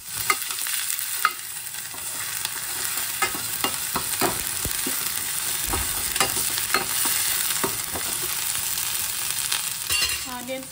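Onions frying in a pan with turmeric and ginger, a steady close sizzle with occasional light scrapes and clinks of a stirring utensil throughout, no talking.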